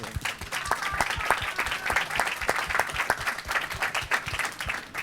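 An audience gives a round of applause for Jan Harlan, a dense steady wash of many hands clapping together for several seconds, with a murmur of voices mixed in.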